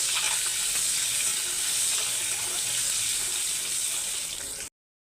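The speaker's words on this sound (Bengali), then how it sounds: "সেদ্ধ ডিমগুলো আমি ভেজে নিচ্ছি।" Peeled boiled eggs frying in hot oil, a steady close sizzle that holds evenly, then cuts off abruptly near the end.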